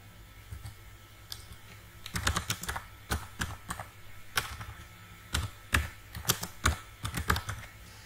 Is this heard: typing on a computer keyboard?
yes